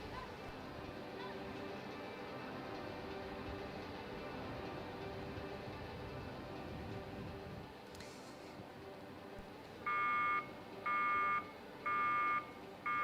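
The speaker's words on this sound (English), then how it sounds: "So I think that is a false start. The multiple buzzers there" Repeated false-start buzzers at a rowing beach sprint final: four evenly spaced electronic tone bursts near the end, heard over steady crowd and broadcast ambience.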